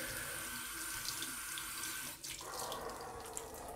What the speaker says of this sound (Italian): Vado prima a bagnare leggermente il viso, picchiettare più che bagnare.